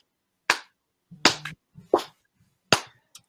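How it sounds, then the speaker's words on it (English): One person gives a slow, deliberate series of sharp hand claps at an annual symposium, about four loud, widely spaced claps, each ringing briefly in a quiet room. "I'm going to give you the Denzel Washington training day clap."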